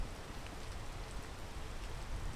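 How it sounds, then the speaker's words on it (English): Steady rain falls in the video game Peak, a dense, even hiss of droplets that fills the whole stretch without letting up and with no voices over it. "But it's kind of hard since it's just constantly raining."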